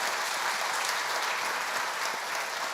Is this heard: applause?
yes